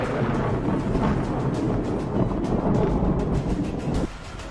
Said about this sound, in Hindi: तूफानी हवाओं के साथ तेज बारिश हो रही थी।